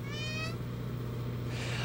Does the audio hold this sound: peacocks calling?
yes